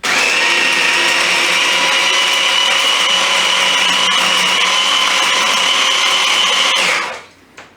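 A blender whirs loudly and steadily while mixing melon and mango into a smoothie, a constant high motor drone that cuts off abruptly near the end.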